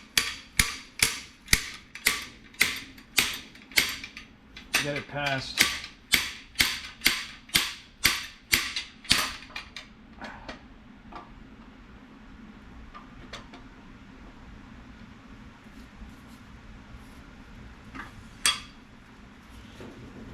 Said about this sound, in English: the cam didn't just slide out, so I put the slide hammer on it here